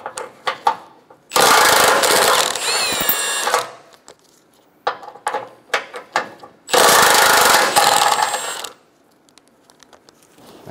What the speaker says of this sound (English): we're going to start by removing the four bolts on each side